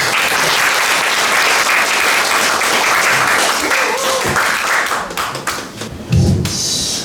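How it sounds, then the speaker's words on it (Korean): Loud, sustained applause from a crowd at a book concert fills most of the clip, thinning out toward the end with a few scattered claps and thumps. "그럼 박수 부탁드립니다"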